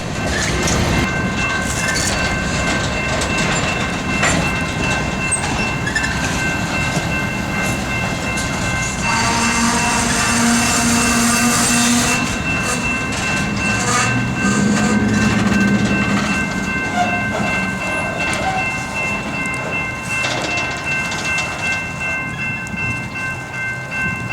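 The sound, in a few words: long freight train passing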